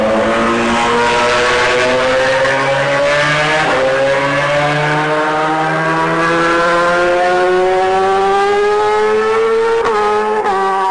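A race car engine revs hard and climbs steadily in pitch, loud and close, with a brief drop and re-rise near the end.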